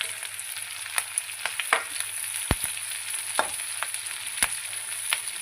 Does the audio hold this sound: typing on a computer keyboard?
no